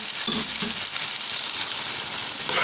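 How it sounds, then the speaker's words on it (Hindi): Dried chilies, salt and turmeric fry in a hot pan with a constant close sizzle, broken by a few brief stirring scrapes and no talking. "इसको अच्छी तरह से हम 1 मिनट के लिए भूनेंगे।"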